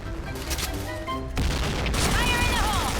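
Bomb-gun blasts and gunfire in the shooter game Point Blank, a dense run of bursts that grows louder and busier halfway through, with game effects and voices mixed in.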